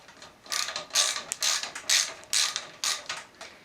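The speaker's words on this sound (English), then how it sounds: "Just 2 more screws to hold it in fully" A screwdriver drives screws to mount a computer motherboard, giving a series of close, quick ratcheting clicks in short bursts.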